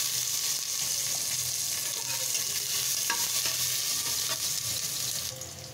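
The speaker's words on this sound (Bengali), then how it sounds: "এখন আমি কুচানো পেঁয়াজ দিয়ে দিচ্ছি।" Chopped onions added to hot oil in a pan along with bay leaves, cinnamon, cardamom and cloves for a beef bhuna, sizzling loudly and steadily with faint stirring clicks throughout.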